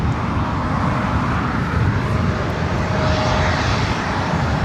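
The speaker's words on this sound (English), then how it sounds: "Starlux takes off for run 1" A Starlux airliner takes off at LAX, its jet engines a loud, steady broadband roar that holds for the whole stretch with a slight swell midway and no voices over it.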